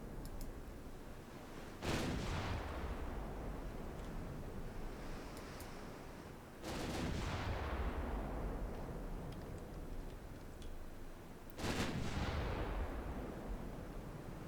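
Warship main guns fire in Ultimate Admiral Dreadnoughts, three deep booming salvos about five seconds apart, each rolling off in a long rumbling tail over a steady wash of sea and wind.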